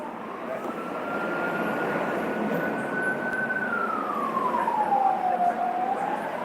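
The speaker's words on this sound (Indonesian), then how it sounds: "Setiap hari pasti dengar suara sirene ambulan ini." A wailing ambulance siren holds a steady pitch, then sweeps down and back up, sounding continuously over constant road noise.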